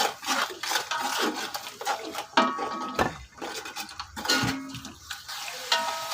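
Chicken yakhni pulao masala with red chili and salt is fried and stirred in a pot, giving continuous scraping and rasping strokes with some sizzling. Nobody talks.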